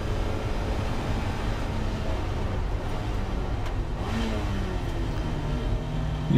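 A race car's engine drones loudly and continuously at Snetterton during a Roadsports race, with shifting engine tones through the downshifts and no talking.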